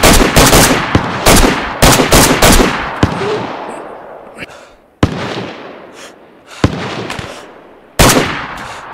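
Loud gunshots in a shooter video game: a quick run of sharp close cracks, then single spaced shots with decaying echoes trailing after each one.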